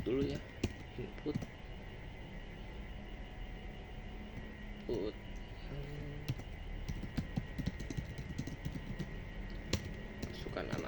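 Keys on a computer keyboard clatter in quick irregular bursts while program input is being typed, someone talking over them throughout against a low steady hum.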